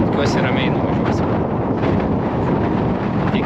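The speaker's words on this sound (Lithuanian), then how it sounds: "Kadangi yra vėjas, tai turėtų žiauriai pustyti" Strong wind sweeps across an icy road in the Westfjords, a dense, steady roar of gusts battering the microphone with no let-up.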